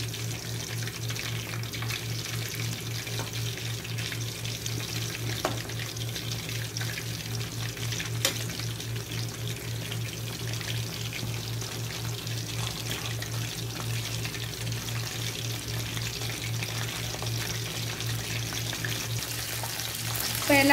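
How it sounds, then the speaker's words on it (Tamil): Pieces of quail deep-frying in hot oil for a kaadai fry, giving a steady, moderately loud crackling sizzle that continues evenly throughout, with a low hum underneath and a few brief clinks. "எல்லாத்தையும் எடுத்துக்கலாம் பொரிச்சுக்கலாம்"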